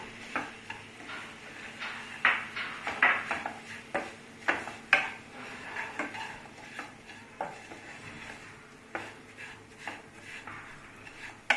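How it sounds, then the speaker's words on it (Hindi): Semolina being roasted in a pan for pineapple halwa, stirred with a utensil: repeated scraping strokes against the pan at an uneven rhythm over a soft sizzle, fairly close and moderately quiet, with no talking. "सूजी को इसमें ब्राउन होने तक भुनेंगे"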